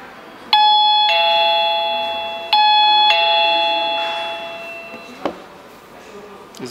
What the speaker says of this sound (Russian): Светозвуковая.